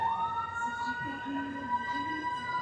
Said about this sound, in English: And loud sirens as well.